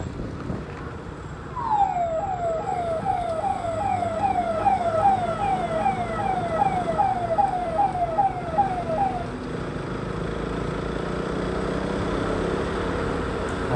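An ambulance siren on a highway, passing a motorcycle rider, repeats a fast rising-and-falling wail for about seven seconds over steady road and wind noise, then drops away behind continuing traffic rumble.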